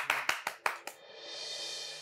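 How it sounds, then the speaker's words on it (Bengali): Five loud, sharp hand claps in quick succession for a husband, the last one softer, then a steady broadband hiss fills the rest. "আমি কর্তামশাইয়ের জন্য জোরে একটা হাততালি দাও"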